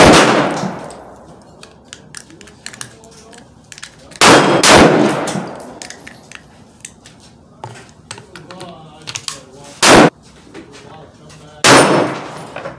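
Rifle shots from a Savage Axis II XP hunting rifle firing Winchester ammunition, four loud separate cracks spaced several seconds apart, with quieter clicks and handling noise in between.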